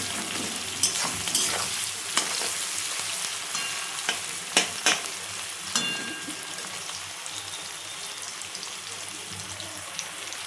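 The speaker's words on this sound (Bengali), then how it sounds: "পেঁয়াজটা হালকা একটু খয়েরি কালার ভাজাটা হবে" Onions fry in oil in a pan and are stirred repeatedly with a utensil, a continuous close sizzle broken by sharp scraping clicks of stirring, with no voices.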